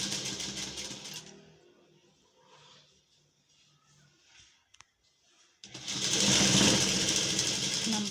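Sewing machine stitching piping along a fabric sleeve edge, a dense rapid mechanical whir that starts loud, stops for several seconds of near quiet with a couple of small clicks, then resumes at full speed.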